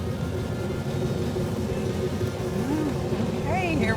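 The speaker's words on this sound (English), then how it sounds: "This young man got to come down and go for a joyride in a 70 Cuda 446 barrel tribute car" A 1970 Plymouth Cuda tribute car with a 440 six-barrel engine rumbles steadily as it pulls away, its engine note rising near the end.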